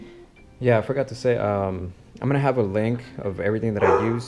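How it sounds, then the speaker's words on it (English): A dog barks in the background, mostly buried under a person talking steadily in the foreground. "That's my dog barking."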